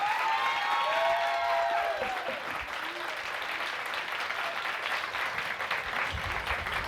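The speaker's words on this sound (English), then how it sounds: "let's give them another round of applause" A fair pageant audience gives a steady round of applause with some cheering, the clapping continuous and moderately close, with voices briefly over the start.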